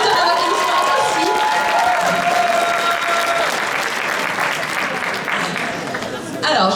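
A large audience claps steadily and densely, without a break, at a solo cosplay contest prize-giving at Japan Impact 2018. The clapping fades slightly toward the end before cutting off abruptly.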